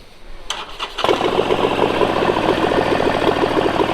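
A motorcycle engine cranks with a few quick bursts, catches, and settles into a loud, steady, throbbing idle close by.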